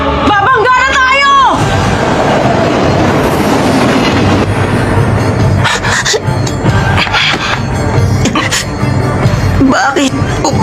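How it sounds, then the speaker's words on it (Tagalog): An anime scene with a loud rumbling, clattering oncoming train rolling continuously, while several characters shout excitedly over the noise. "Parating na yung isang tren! Babangga na tayo!"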